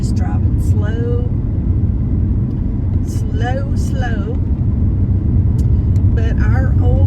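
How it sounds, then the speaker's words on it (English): Steady low rumble of a car cruising slowly along a residential road, loud and constant throughout, with someone talking over the engine and road noise. "So I'm just driving slow."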